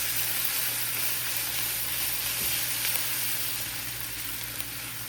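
Curry leaves, dried chillies and garlic fry in hot oil for a garlicky potato curry, giving a loud, steady, close sizzle that hisses on without a break and with no voices.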